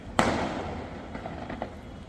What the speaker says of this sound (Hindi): कोई खुशखबरी होती है तभी तो पटाखे छूटते हैं, आतिशबाजी बजती है।